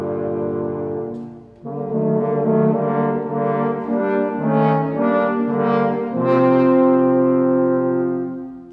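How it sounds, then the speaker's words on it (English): Three French horns sound the wolf theme together from Peter and the Wolf, a symphony orchestra concert piece. The phrase is loud and sustained, with rich held chords that swell and shift over about nine seconds, and no voices. "he uses not one French horn, or not even two, but a combination of 3 French horns."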